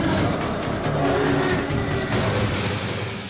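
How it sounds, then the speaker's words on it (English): An IndyCar race car of the Penske team drives at speed on track, a loud continuous engine roar with tire noise that holds steady throughout. "Which brings us back to the IndyCar."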